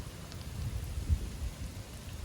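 Rain falls on the road during a night cruise for snakes inland, a low, rumbling steady patter with a slight swell midway.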